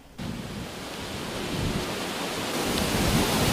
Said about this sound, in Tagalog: Malakas na buhos ng ulan na sinabayan ng malakas na hangin ang dala ng bagyong Ruby sa Batangas